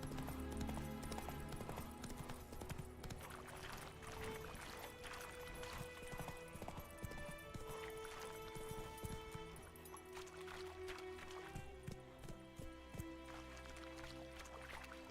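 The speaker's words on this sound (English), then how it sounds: "Run, Roach." Horse hooves in The Witcher 3: Wild Hunt, a rhythmic galloping clip-clop running through the whole stretch alongside game music and ambience, with no speech.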